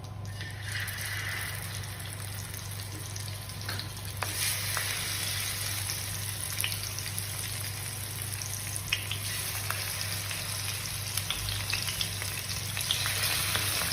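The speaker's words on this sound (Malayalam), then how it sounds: "എണ്ണ ചൂടായിട്ടുണ്ട്. നമുക്കിനി മീനിടാം." Sardines frying in hot oil, a steady loud crackling sizzle that runs continuously with scattered sharp pops and spatters throughout.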